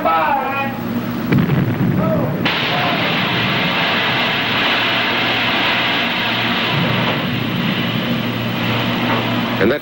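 USS Alabama battleship main guns firing, a heavy booming blast giving way to a long rumbling, roaring wash of sound that persists loud throughout, with faint voices mixed in.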